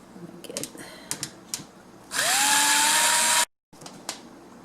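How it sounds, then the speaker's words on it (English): A power drill backing out screws from a fan, one loud whirring burst that rises in pitch and runs for over a second, with small clicks and handling noises around it. "I'm removing the screws on the other side."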